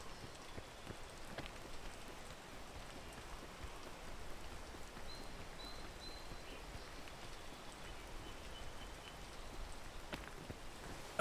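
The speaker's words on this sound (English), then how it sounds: "fucking raining again." Rain patters steadily in the climbing video game Peak, a soft continuous hiss of drops with occasional sharper taps, fairly quiet and without speech.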